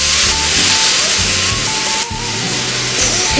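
A vegetable pancake frying in a pan, a loud, steady hiss of sizzling oil with low bumps underneath and a short dip partway through.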